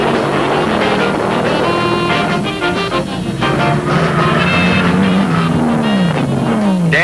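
A Hot Rod Shop drag racing car at the 1972 UDRA Spring Nationals roars loudly and close, its engine note rising and falling as it revs and pulls away, with wind buffeting the microphone.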